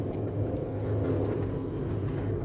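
A car accelerates along a driver's test route in Motherwell, a steady low engine rumble rising slightly from inside the cabin, with no talking.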